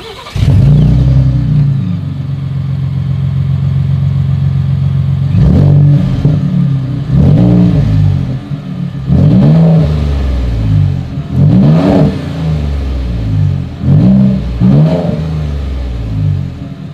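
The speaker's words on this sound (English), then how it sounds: "As always, here is that exhaust clip." A 2020 Ford F-150 Raptor with dual exhaust idles loudly, then its engine is revved repeatedly in sharp bursts that rise and fall, close up with no talking.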